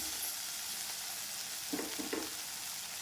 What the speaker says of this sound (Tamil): இது தேங்காய், அதையும் போட்டு வதக்கலாம்.